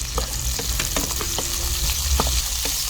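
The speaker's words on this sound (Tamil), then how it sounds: "வெங்காயத்தை நல்லா வணக்கிக்கலாம்" Onions and green chillies sauté in a pan with a dense, steady sizzle, punctuated by a few sharp clicks and scrapes from a stirring spoon, close and continuous throughout.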